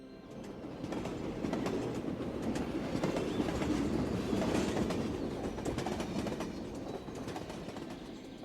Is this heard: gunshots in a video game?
no